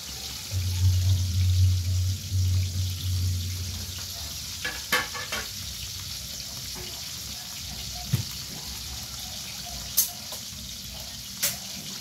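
Ginger, onion and garlic fry in a pan for ginataang ampalaya, a gentle, even sizzle with a low hum early on and scattered sharp clinks of a utensil against the pan.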